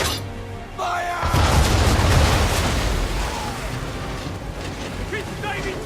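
Ship cannons fire in the Assassin's Creed 3 video game, a heavy booming volley that swells into a long rumbling roar, with shouting voices in the din.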